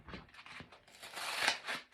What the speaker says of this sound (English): Or if I can just cut it with some scissors.